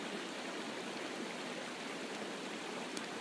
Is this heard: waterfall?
yes